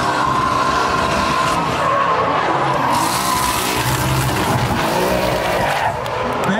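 V8 Toyota Supra drift car skidding at a drifting championship, loud sustained tire squeal mixed with a roaring engine, continuous and close.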